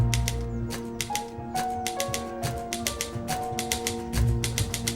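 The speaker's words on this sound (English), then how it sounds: "the use of a typewriter as an instrument in the score" Typewriter keys clack in a steady, rhythmic pattern as a percussive instrument within the Atonement film score, woven over sustained orchestral tones and piano notes, with no talking.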